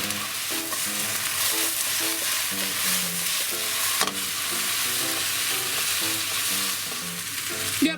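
Ginger and leek stir-fried in a pan with browned pork, a loud, continuous sizzle and crackle with occasional spatula scrapes and a sharper clack midway.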